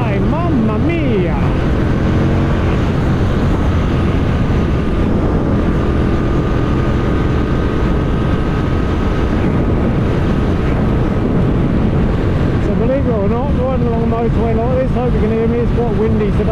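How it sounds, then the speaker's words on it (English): Strong, continuous wind buffets the microphone during a ride on an Aprilia RSV Mille Haga motorcycle, a low roaring rumble from start to finish, loud and unbroken. "Windy today"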